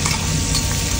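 Garlic fries in a pan for bangus marinated with garlic honey, a close, dense sizzle with scraping stir sounds throughout and no talking.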